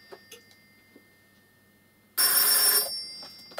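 A telephone bell rings loudly in one burst of about half a second, standing out sharply against a quiet room with a few faint ticks and no talk.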